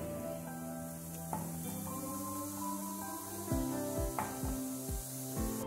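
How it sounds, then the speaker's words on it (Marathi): Green chilies frying in hot oil for a vada pav dry red chutney, a steady, quiet sizzle with a few louder crackles near the end over a tonal background. "आता मिरच्या पण थोडे फ्राय करून घेतले"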